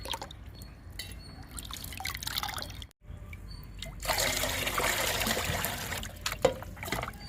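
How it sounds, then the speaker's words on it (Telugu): Liquid fertilizer trickles and splashes onto potted chrysanthemum plants in uneven drips at first, then in a fuller, steadier pour. "ఇప్పుడు ఇచ్చేద్దామండి చామంతి మొక్కలకి ఈ లిక్విడ్ని"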